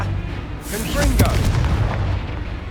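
A Confringo explosive spell in the video game Hogwarts Legacy, a sudden booming burst with a rumbling tail, loud and close, overlapping a shouted voice.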